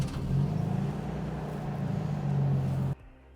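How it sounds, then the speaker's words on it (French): A BMW E82 engine turns over and settles into a low, steady idle close by, then cuts off abruptly near the end. "J'allume la voiture"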